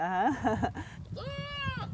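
Goats bleat loudly and close by in a Moroccan argan area, with a wavering cry followed by a longer sustained bleat, and no other sounds competing.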